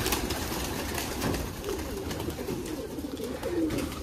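A flock of Giribaz pigeons gathers around a small water dish, with soft throaty coos repeating intermittently at moderate distance over a steady, noisy background.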